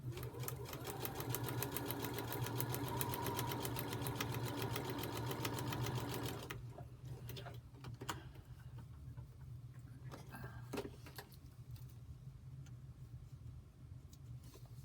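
A sewing machine doing free-motion quilting of a hummingbird design, stitching in a fast steady whir for about six seconds before it stops, followed by quieter handling clicks and rustles.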